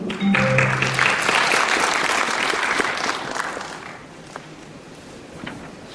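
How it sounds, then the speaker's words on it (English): An audience at a Korean English-teachers' winter seminar gives a round of applause after a presenter is introduced, a loud burst of many clapping hands that gradually fades. "Please give her a round of applause."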